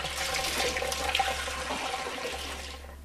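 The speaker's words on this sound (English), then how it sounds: "Now just do a quick rinse of all of it" Running water rinsing fresh rhubarb stalks in a kitchen, a steady close rushing splash that wavers slightly as the stalks move under the stream and cuts off abruptly at the end.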